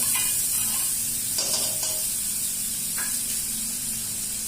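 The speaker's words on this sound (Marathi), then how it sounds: "आता आपण फोडणीला घेतोय चिकन हे बघा" Steady sizzling and crackling of chicken frying in butter in a hot pan, with a few brief clinks and stirring sounds over a constant hiss.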